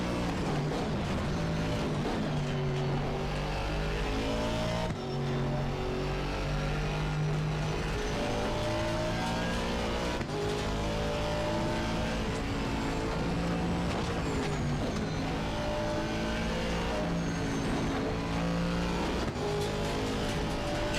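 A McLaren Artura race car in a racing game lapping the Nordschleife, its engine droning loud and continuous with rising and falling revs through gear changes and braking.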